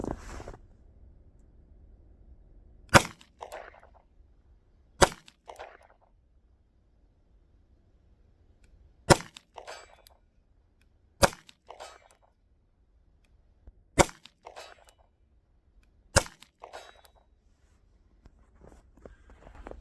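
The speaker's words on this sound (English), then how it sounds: "Not bad for 100 yards with a subcompact 9mm." Six sharp, evenly spaced reports from a subcompact 9mm pistol fired at a target 100 yards away, each a loud crack with a brief tail, separated by quiet gaps of two to three seconds.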